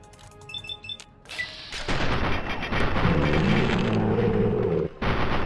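Minigun fire in Fallout 3, a video game: a short mechanical whir and clicks, then a loud, sustained roar of rapid shots lasting several seconds, broken by one brief gap near the end before it resumes.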